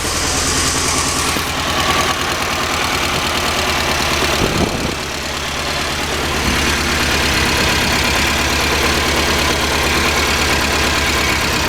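A 1994 Saab 9000 engine idles steadily just after its first start, a continuous close-up running drone with a faint knocking texture and brief dips in level, no talking.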